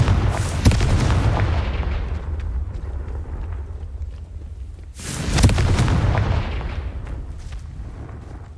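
A Confringo spell explosion in the video game Hogwarts Legacy: two heavy, booming blasts about five seconds apart, each hitting hard and rumbling away slowly, with no talk.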